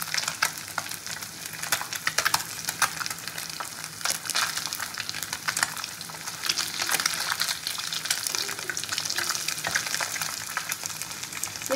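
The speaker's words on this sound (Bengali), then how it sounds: "এই মাছগুলো কিন্তু খুব নরম মাছ, খুব সাবধানে ভাজতে হবে।" Soft kajli fish crackle and sizzle in hot oil, a loud, busy spitting hiss close by, broken by scattered pops and occasional stirring clatter, with no one talking.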